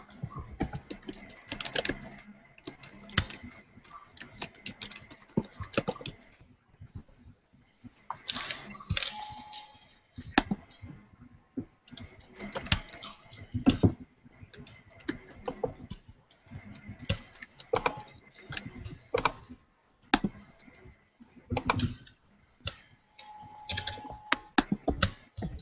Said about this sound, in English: So I guess we'll just type in our email addresses.